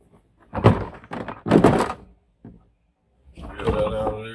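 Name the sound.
toolbox being unloaded from storage drawer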